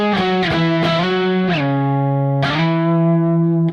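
Distorted electric guitar playing octaves legato, notes sliding and hammered in without picking, a few sharp attacks followed by sustained, ringing tones that step down and up in pitch, loud and close with no voices.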